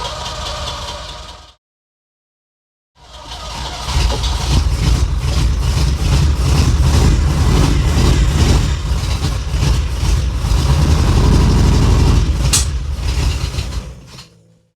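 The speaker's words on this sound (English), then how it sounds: "Well, obviously that's not running right, but it caught, which is more than it has been doing." A Ferrari 308 with a starting fault: the engine is cranked after a short idle, falls silent for a moment, then catches and runs loudly and unevenly with a rough, throbbing idle before cutting off.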